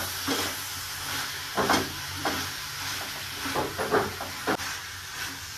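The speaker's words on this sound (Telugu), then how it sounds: "అట్లా కలుపుతా ఉండాలా?" Chicken curry is stirred in a pan over sizzling heat, with a steady frying hiss and intermittent scraping and clinking strokes of the spoon, fairly close and without talk.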